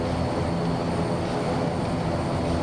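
A Fokker F27 turboprop airliner by iniBuilds in Microsoft Flight Simulator 2024 gives a constant, dense engine drone with steady tonal hums running through it.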